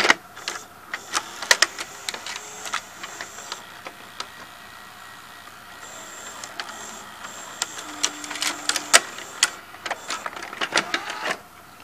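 A Hitachi VT-M260A VCR's tape mechanism runs alone with soft motor whirring, intermittent mechanical clicks and ticks as the mode switch turns, and brief whines from gears and loading parts, all quiet and close.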